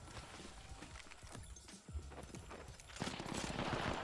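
Rapid bursts of automatic gunfire from a squad firefight in Apex Legends, a dense crackling barrage under game noise that swells louder and busier toward the end.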